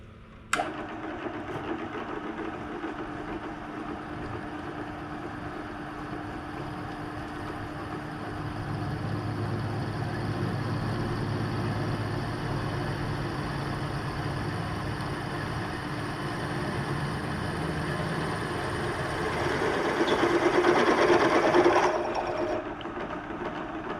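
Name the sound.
axial relief ground drill bit drilling a hole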